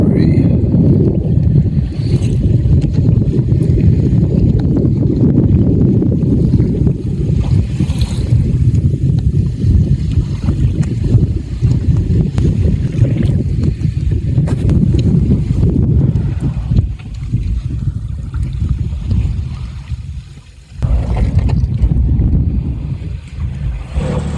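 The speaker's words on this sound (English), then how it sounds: "I'm just motoring at the moment, motor sailing, got the sails up still" A sailboat motor sailing with its sails up along the coast of Queensland, heard as a steady loud drone of engine, water rush and wind buffeting the microphone throughout, with a brief dip near the end.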